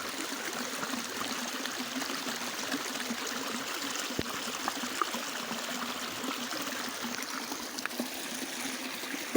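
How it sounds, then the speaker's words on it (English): Rainwater trickling and rushing through a flooded hole under a road, a steady soft stream of running water with faint splashes, constant and fairly quiet, with no talk. "the water is definitely not going the direction it's supposed to go under the road"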